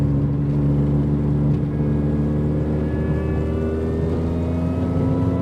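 A modified Mini R53 with a supercharged engine drives along a road, heard from inside the car. A steady engine drone carries a rising supercharger whine, loud and continuous, with no talking.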